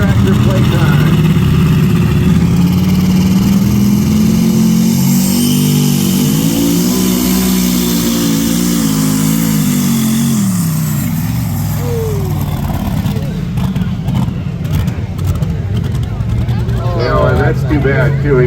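A twin-turbo Chevrolet-powered pulling tractor roars at a tractor pull in New Hampshire, its engine revving loud and steady for about ten seconds before easing off, with crowd noise and talk underneath.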